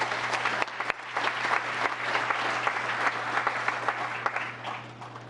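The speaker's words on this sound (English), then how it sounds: "One more round of applause for her." A town council meeting audience applauding, a sustained round of clapping from a moderate-sized crowd heard alone at moderate level over a steady low hum.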